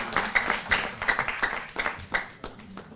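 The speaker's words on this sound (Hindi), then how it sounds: "जोरदार तालियों से हम सहभागी बने इस सम्मान में।" Audience applause at a ceremony honouring a chief minister with a turban, a loose patter of claps rising and falling in irregular bursts across the whole stretch, moderately loud and fairly close, with no talking over it.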